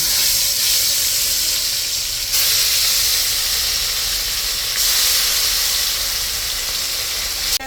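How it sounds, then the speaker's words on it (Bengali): Pieces of katla fish from a large 3 kg fish frying in hot oil in a kadai, a steady loud sizzle and hiss that carries on for the whole stretch with no talk. "এখন মাছগুলি দিয়ে দিই"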